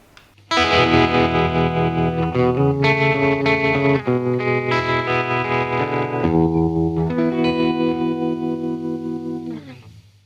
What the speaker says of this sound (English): that sort of gives you the same overall tremolo sound, but with more of a square waveform